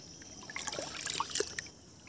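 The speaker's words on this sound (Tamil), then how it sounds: "இதை வந்து தண்ணி ஊற்றி நல்லா வந்து கலைஞ்சிக்கலாம்" Water poured over ration raw rice to wash it, a soft trickling and splashing with scattered bright droplet plinks, rising in the middle of the clip and easing off toward the end, quiet and close with no talk.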